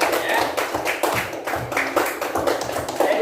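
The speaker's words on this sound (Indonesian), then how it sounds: "kasih tepuk tangan untuk temannya" Schoolchildren in a classroom clap for a classmate, giving a brisk, close run of scattered claps, with faint voices underneath.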